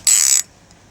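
A fishing reel's ratchet clicks in one quick, loud burst of about a third of a second while a bream is played in Norfolk, then cuts off into quiet.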